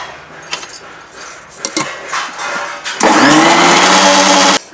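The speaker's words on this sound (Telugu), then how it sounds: "ఎగ్స్ని మిక్సీలో బాగా బీట్ చేయాలి." Mixer grinder beating eggs for cake batter kicks in loud and steady for the second half, a dense whirring drone, after quieter kitchen clatter at the start.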